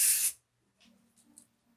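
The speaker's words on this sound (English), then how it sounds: "So I'll just spray that just a little" Kevin Murphy Session Spray Flex hairspray is sprayed in one short, bright hiss from an aerosol can, followed by faint handling sounds as the hair is worked.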